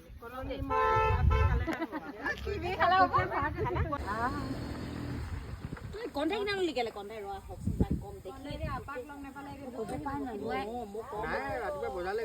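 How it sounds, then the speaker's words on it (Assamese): A vehicle approaches and sounds its horn in a couple of short toots near the start, then its noise carries on under people talking close by. "ৰাম ৰাম গাড়ী আহিছে"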